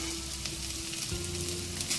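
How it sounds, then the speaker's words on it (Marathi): Cooked rice is stir-fried in a pan for quick Schezwan rice, giving a steady close sizzle with faint scraping and a low hum underneath, no talk. "तो आता मी ह्याच्यामध्ये घालून घेणार आहे आणि हळूहळू हा परतून घेणार आहे"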